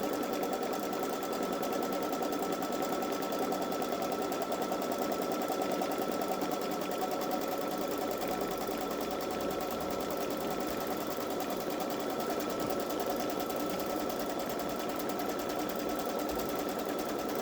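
A Babylock Solaris embroidery machine stitches a dove design on fabric, running as a steady, fast mechanical whir with a constant even rhythm throughout, close and alone with no voices.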